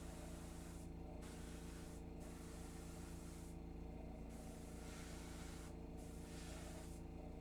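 An airbrush sprays paint onto Awaken Realms objective markers in steady, hissing bursts, the flow cutting in and out every second or so over a constant background hum, close and unaccompanied by talk.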